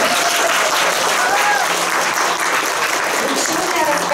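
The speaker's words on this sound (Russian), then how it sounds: "Аплодисменты!" Loud, continuous applause from an audience at a young scientists' competition staged in a library setting, a dense sustained clapping wash with no pauses.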